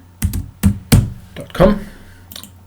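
A handful of heavy, close keystrokes on a computer keyboard, spaced unevenly in a short burst of thumping taps with quiet gaps between.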